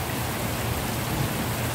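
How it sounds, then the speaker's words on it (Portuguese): Rain falls at night after a hot day, a steady even hiss of drops with no other sounds nearby. "a chuva aí, ó."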